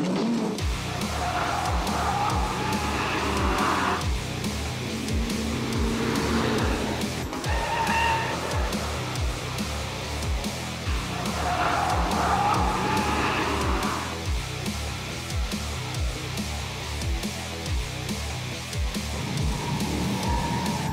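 Honda Civic Type R driven hard around a race track, engine roaring and rising through revs under constant load with repeated gear changes and tire scrub, loud and close throughout without speech.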